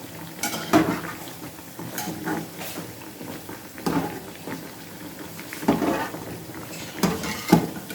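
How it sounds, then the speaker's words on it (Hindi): Potato snacks frying in a pan in a home kitchen, a low sizzle broken by clinking of a utensil against the pan every second or so, close and moderately quiet with no talk. "स्नैक्स को फ्राई कर रहे हैं"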